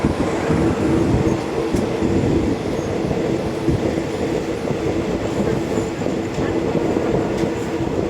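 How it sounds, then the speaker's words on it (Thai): A train rumbles and clatters steadily on the rails arriving at Saraburi railway station, a continuous close, loud rolling noise with faint squeals and no clear talking. "นี่อยู่บริเวณสถานีรถไฟ สระบุรี เข้าสถานีตามเวลานะครับผม"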